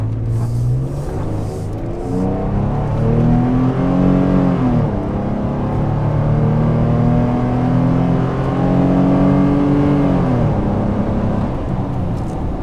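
Nissan Frontier pickup with a Borla exhaust accelerating hard through two long gear pulls, engine note climbing steadily and dropping at each shift, heard from inside the cab with a constant road rumble underneath.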